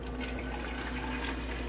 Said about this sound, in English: So I still have my first half gallon here and I'm gonna fill it up right now.